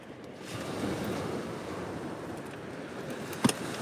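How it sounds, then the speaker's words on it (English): Steady wind blows across the microphone near the shore, a soft continuous rush with a brief gusty thump near the end. "You guys might get a bit of wind noise"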